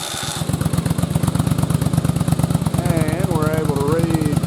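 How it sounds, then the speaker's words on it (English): A Yamaha Virago motorcycle engine cranks and fires on a test rig, then settles into a loud, close, rhythmic V-twin idle with a rising and falling whine over it. "I'll go ahead and start it."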